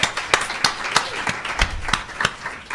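A scattered round of clapping from a small audience at a social-good innovation event, uneven sharp claps overlapping for a few seconds with no voices.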